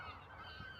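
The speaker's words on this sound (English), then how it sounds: "you hear the birds, the water" Geese honk faintly in the distance by the water at a beach, with a soft, steady wash of ambient background underneath and no one speaking.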